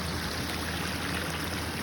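A small woodland stream trickles and flows steadily along a mountain trail, a continuous close, even burble of running water with no voices.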